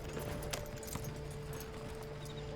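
Horse hooves clip-clop in Red Dead Redemption 2 Online, a steady run of soft, evenly spaced hoof strikes at moderate distance over a low ambient game background hum, with no voices.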